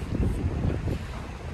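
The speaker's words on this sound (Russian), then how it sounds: "Ветер дует" Wind gusts outside Khabarovsk airport, buffeting the microphone with a continuous low rumbling roar for the whole short stretch.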